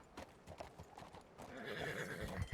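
Horse hooves clip-clop in a quick uneven rhythm in the video game RanchRP, then a loud whinny rises and carries to the end, fairly quiet overall.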